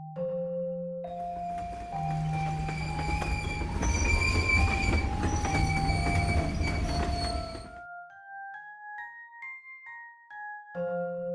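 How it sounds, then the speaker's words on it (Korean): A subway train rumbles into a station with squealing wheels and a rising metallic screech, then the noise drops away to a series of tonal electronic chimes. "긴 경적 소리와 함께 열차가 들어오는 소리가 들렸다"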